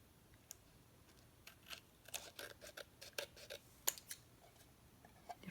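Scissors snip around a plastic coin protector in a quiet room, a scattering of light, crisp clicks and cuts coming in irregular bursts, close and faint.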